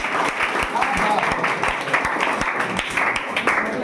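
Steady applause with sharp scattered claps at a school quiz competition grand finale, fairly loud and continuous, with voices mixed in over it.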